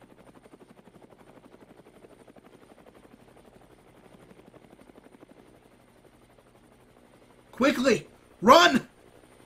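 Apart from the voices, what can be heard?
Nexus helicopter approaching in a movie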